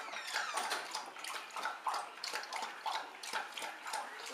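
A dog laps water from a bowl, a rapid run of wet splashy licks repeating in quick bursts, close by, with no voices.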